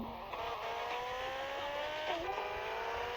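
A motorcycle engine in the video game Vice City drones steadily, its whining pitch rising and dipping as it revs, with tire noise in the background.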